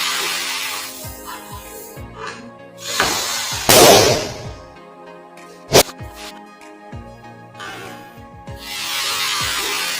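A 12-inch Sempertex balloon bursts in slow motion, heard as a stretched, booming pop in the middle of several seconds of rustling and handling noise, with one sharp crack shortly after it.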